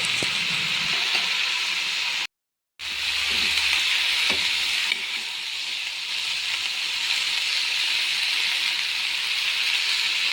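Slit green chillies fry in a pan for a pumpkin-greens mixed vegetable curry, giving off a loud, steady hissing sizzle that is cut briefly near the start and then carries on unbroken.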